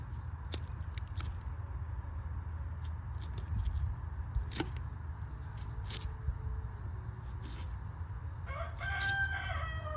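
A rooster crows toward the end over a low background hum while buffalo fish and carp are cleaned outdoors, with scattered small clicks and taps of a knife throughout.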